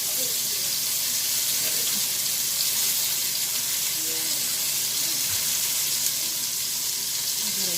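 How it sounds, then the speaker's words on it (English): Beef chuck roast searing in oil inside a Dutch oven, a steady loud crackling sizzle that fills the whole stretch without letup, close by. "Hear that sizzle, so that's a yes it is"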